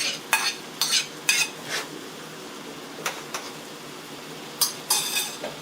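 Celery and preserved daikon radish are stir-fried for a pork bao filling, with bursts of a utensil scraping and tossing in the pan over a faint sizzle, close by and without talk.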